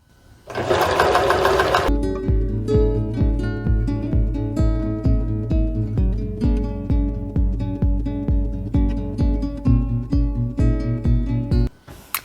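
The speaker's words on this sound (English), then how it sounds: "we'll take it to a sewing machine and sew along this line" A sewing machine stitches a fabric lining for an Ankara foldover clutch purse, running in steady rhythmic bursts of loud, close mechanical chatter with a brief pause early on and stopping near the end.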